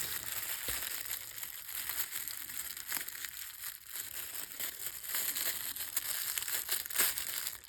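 Paper wrapping on a piece of mail is crinkled and torn open close by, with dense, scratchy rustling that keeps going in short bursts and no talk.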